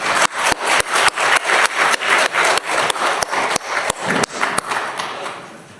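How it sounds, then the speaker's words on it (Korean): A church congregation in Korea claps in unison for the choir at a Sunday morning service. The sharp claps fall in an even, quick rhythm, then trail off into a fading wash of sound. "우리 찬양대를 위한 격려의 박수를 한번 더 하겠습니다."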